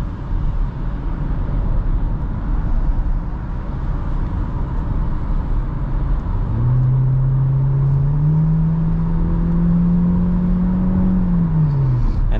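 A 2023 Hyundai Elantra mid-trim sedan accelerates hard from inside the cabin, a steady road rumble giving way midway to a rising, sustained engine drone that climbs and holds before dropping off near the end.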